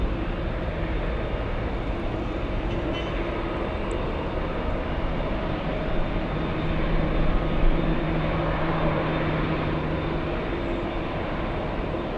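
A JetBlue jet airliner takes off at LAX with a constant, dense engine rumble, loud and steady from start to finish.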